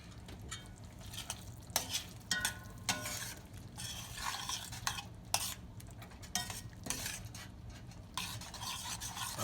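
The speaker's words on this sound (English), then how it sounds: "we're just going to get this probably another minute or so to simmer down" Curry shrimp simmering in a hot pan, with a soft sizzle under repeated clinks and scrapes of a utensil stirring against the pan, fairly quiet and close.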